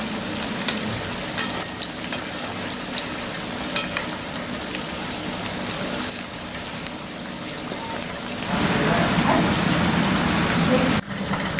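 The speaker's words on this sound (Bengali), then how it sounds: "মাঝারি আঁচে টিকিয়াগুলি ভেজে নিন" Chicken tikia kebabs shallow-frying in oil over medium heat, a dense steady sizzle and crackle running throughout, close and fairly loud, with a brief louder stir or flip near the end.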